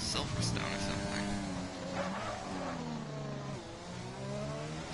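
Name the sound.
racing car engine on a flying lap, racing video game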